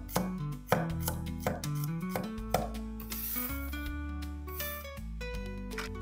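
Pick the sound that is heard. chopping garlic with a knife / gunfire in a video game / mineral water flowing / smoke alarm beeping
chopping garlic with a knife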